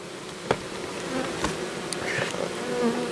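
Bees buzz continuously around old hollow-log hives outdoors, a steady droning swarm with individual insects passing close by now and then, loud and unbroken for a few seconds.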